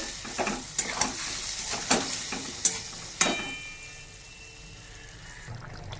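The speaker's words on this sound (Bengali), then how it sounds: "এবার একটু নেড়ে নেব।" Soybean curry with added water is stirred in a pan, a wet sizzling bubble with several sharp scraping spoon strokes in the first seconds, then a quieter simmering hiss, close by and without talking.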